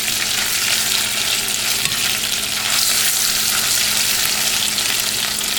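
Tomato paste frying in a pot for Haitian rice and okra, a loud, steady, dense sizzle with occasional stirring scrapes, no talking.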